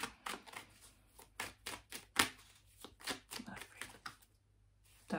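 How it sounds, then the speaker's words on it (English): A deck of tarot cards is shuffled in a quiet room, giving a series of soft, close, irregular slaps and riffles with brief pauses between them. "That was the shuffle."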